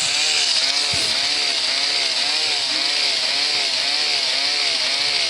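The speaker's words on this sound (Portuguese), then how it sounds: "1 milhão de anos depois eu tô cortando essa árvore" In the survival game 99 Nights in the Forest, a tree is cut down with a steady, loud, droning chainsaw-like buzz that runs unbroken from start to finish. A faint thud sounds near the beginning.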